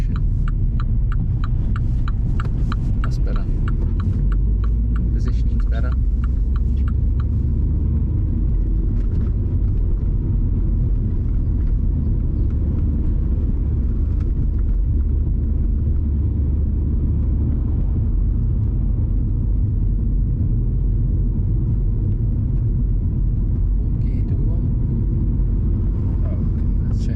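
Car engine hum and road rumble while driving at about 17 to 20 mph during a driving lesson near roundabouts, a steady low throbbing drone under ongoing conversation between people inside the car.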